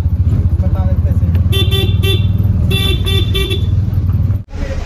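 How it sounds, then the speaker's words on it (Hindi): Stuck traffic near Vashisht in Manali: a close, rumbling engine drones steadily while several car horns toot in short repeated bursts, and someone talks over the din. "और यहाँ पे हो रहा है ट्रैफिक जाम।"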